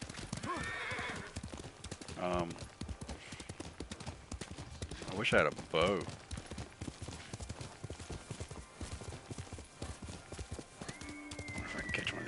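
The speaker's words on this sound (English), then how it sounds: "I love that the horse has a name." Horse in a samurai video game, hooves clip-clopping and a couple of whinnies rising mid-clip, all under steady talk from a player.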